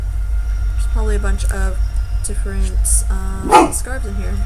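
A dog barks repeatedly in short bursts at a passing train while a person keeps talking, over the train's steady low rumble in the background.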